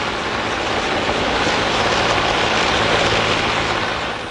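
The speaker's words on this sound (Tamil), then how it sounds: "இலங்கை விமானப்படைக்கு சொந்தமான ஹெலிகாப்டர் ஒன்றில் அது கொண்டு செல்லப்பட்டது" A Sri Lanka Air Force helicopter gives a steady, loud broadband roar with a low rumble, sustained throughout and fading slightly at the end, with no voices.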